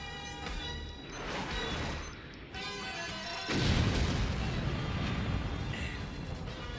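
A cartoon explosion in the animated series Robotech: The New Generation destroys a machine to keep it from alien Invid forces: a sudden loud, deep blast about halfway through, rumbling over a steady music bed.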